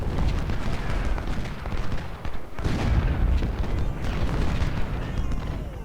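Artillery fire in the Civil War strategy game Ultimate General: Civil War, at the Battle of Shiloh: dense, continuous rumbling booms and cannon blasts overlap with no pauses, loud throughout, with a brief dip midway.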